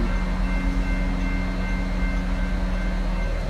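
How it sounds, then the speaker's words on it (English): A BNSF coal train rolls past the Ohio Avenue grade crossing, a steady loud rumble of wagons on the rails with the crossing's electronic bells ringing continuously throughout, no voices. "Here comes the end of that train."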